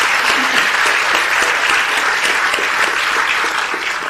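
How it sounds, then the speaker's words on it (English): Conference audience in Adelaide applauding steadily for about four seconds, a dense, even wash of clapping that holds at a constant level from start to finish. "Give yourself a round of applause."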